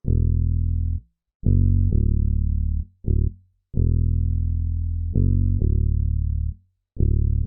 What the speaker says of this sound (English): for the bass, it's actually just following the root notes of the guitar